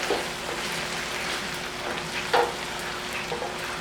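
Okra sizzles in a hot skillet for a shrimp stew, a steady crackling hiss of frying oil with scattered pops, one slightly louder burst near the middle.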